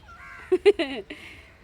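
A short series of cat meows, three or four quick cries close by, with a faint background hum.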